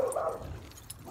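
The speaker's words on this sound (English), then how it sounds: "Dogs." Dogs outdoors give a faint, drawn-out whining bark or yelp from a distance, under a steady wash of outdoor background noise.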